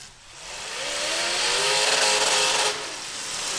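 A demolition derby car with an LS V8 revs hard close by, a loud harsh roar that climbs, holds near the limiter with a buzzing edge, then drops off abruptly.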